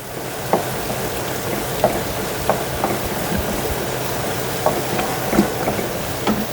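Courgettes frying in a pan, a continuous low sizzle broken by regular light scrapes and clicks as they are stirred.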